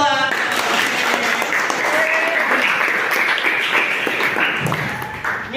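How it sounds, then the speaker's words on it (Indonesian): Applause from a small class of students, a dense steady patter of hands filling the room at close range before it fades near the end. "Oke, tepuk tangan dulu, Pak."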